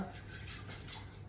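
Steady scraping and clinking of a utensil stirring in a bowl, close by and continuous, with no one talking.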